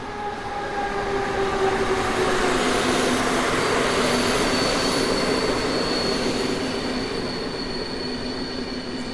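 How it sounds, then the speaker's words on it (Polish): PKP Intercity Kujawiak train hauled by an EU160 Griffin electric locomotive arriving at Warszawa Zachodnia station, a steady rolling rumble with sustained high wheel squeal, loud and continuous throughout. "No i skład wjeżdża zgodnie z rozkładem."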